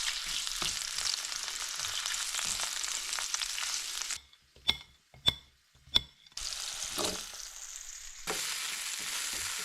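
Three slices sizzle and fry in a pan, a steady broadband hiss with faint stirring clicks; the frying cuts out briefly with a few sharp knocks, then the sizzle resumes loudly.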